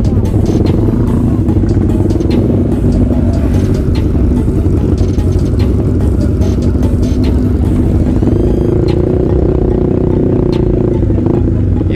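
A Ducati motorcycle on a Sunday morning group ride, its engine droning loud and steady with shifting pitch and road clatter throughout, close to the rider.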